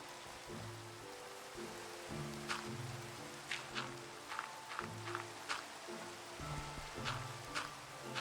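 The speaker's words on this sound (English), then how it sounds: "That rain is freaking crazy" Heavy rain falls in a steady, faint hiss on a tree farm, with scattered sharper drops and tonal background sounds layered through it.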